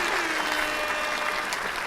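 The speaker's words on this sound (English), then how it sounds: "Are you clapping for yourself or for us?" A podcast studio audience claps steadily through a one-year anniversary Friendsgiving show, a dense, continuous wash of applause that stays level from start to finish.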